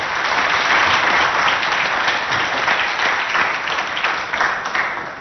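A studio audience gives a sustained round of applause to welcome the student team from CEG Le Succès at a school quiz show in Abéché. The dense clapping stays loud and steady, then eases slightly toward the end.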